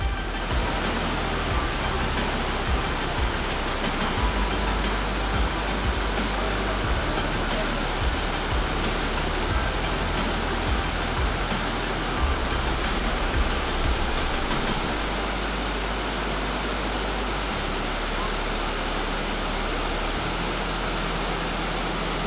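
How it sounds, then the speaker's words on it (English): Cummins Falls waterfall gives off a steady, full rushing roar of falling water, dense and unbroken throughout with no voices. "Our final stop before heading to Nashville for the night is Cummins Falls, another beautiful waterfall."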